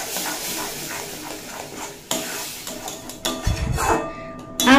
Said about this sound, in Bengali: আমের পাল্পটা দিয়ে 2 মিনিট মতো নাড়াচাড়া করে নিয়েছি